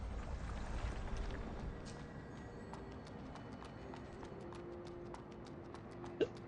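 Horse hooves clip-clopping in the video game AI Limit, a steady rhythmic series of light, fairly close hoof taps over a low ambient game backdrop, with one sharper hit near the end.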